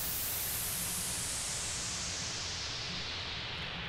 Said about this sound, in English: At the moment it's white noise.